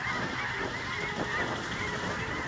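A flock of geese honks in a field, many calls overlapping at moderate distance in a steady chorus with a few louder honks, no voices.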